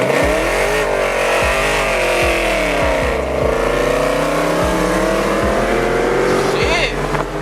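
Muscle cars launching hard from a standing street race start, a loud, sustained engine roar with rising revs that stays dense throughout, with people talking and shouting over it.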